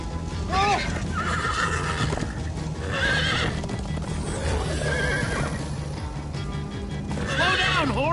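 Horses whinny repeatedly over steady clip-clopping hooves in Minecraft: Story Mode, with game music and sound effects in the background; no clear talk.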